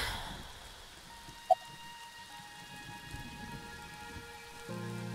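Steady rain falls in AI: The Somnium Files, a continuous wash of drops on surfaces with a brief sharp tick partway through and soft tonal game sounds in the background.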